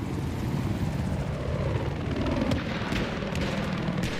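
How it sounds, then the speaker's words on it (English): A helicopter in a combat video game makes a continuous, loud, thudding rotor drone, with a few sharp clicks and bangs over it and no talk. "And a helicopter."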